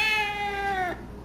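A house cat gives one long, clear meow up close. The meow falls slightly in pitch and cuts off sharply, followed by quiet room noise.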